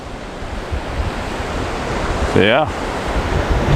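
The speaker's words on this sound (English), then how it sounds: "But yeah, the ocean's nice." Ocean waves breaking on a rocky shore, a continuous loud roar of surf with wind buffeting the microphone, and someone briefly speaking over it.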